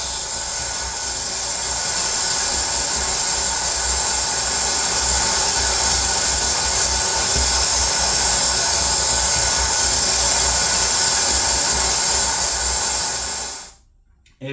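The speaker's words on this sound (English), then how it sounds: "When pylons get nice and moist, they start crackling, and you get a cool electrical sound." Filtered electrical crackle from moist power pylons: a dense, steady hiss of fine static-like crackling with a low hum beneath, holding evenly for most of the stretch before cutting off abruptly near the end.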